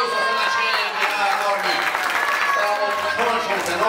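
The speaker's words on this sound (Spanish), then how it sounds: "¡Un aplauso!" Crowd applause at a children's day event with prize giveaways, brief steady clapping mixed under a voice on a loudspeaker that keeps talking throughout.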